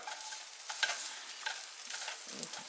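Egg McMuffin fillings frying in a pan just after being flipped, a soft steady sizzle with occasional light scrapes and taps of a utensil, fairly quiet and close, with no talking.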